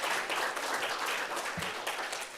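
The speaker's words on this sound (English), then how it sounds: "can we please give them a round of applause" A student senate audience applauds, a dense patter of many hands clapping at steady volume throughout, with no talk over it.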